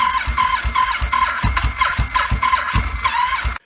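A Yamaha Super Tenere motorcycle engine with a no-start fault chugs unevenly at close range, a run of rough, loud low pulses that stumble along before cutting out abruptly.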